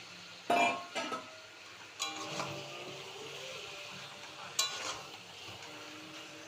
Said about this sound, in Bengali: এবার আলুটা দিয়ে ভালো করে আরেকটু কষিয়ে নেব।